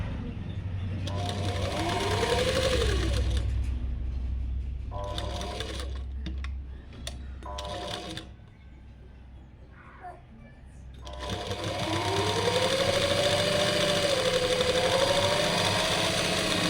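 A sewing machine stitches a cross strip onto fabric in two long, steady runs with a pause between them. A person talks over the loud, close whirring.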